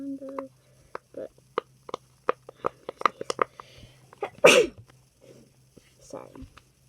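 One sharp sneeze bursts out amid quiet clicks and pops of fidget toys being handled up close, with a faint steady hum underneath.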